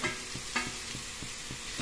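Vegetables with soybean chunks, green banana, taro stems and potato being stirred and fried in a pan, a steady sizzle broken by regular scraping strokes of the spatula, close and alone.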